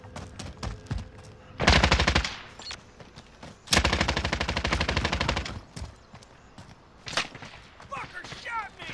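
Automatic gunfire rattles in rapid bursts in the Call of Duty Warzone video game, two long loud volleys with scattered single shots around them, while players talk over the game.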